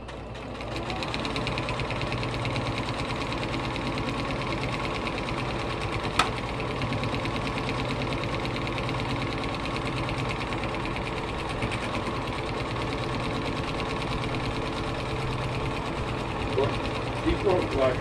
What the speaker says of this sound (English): I'm going to sew me one line down this way and one down this way.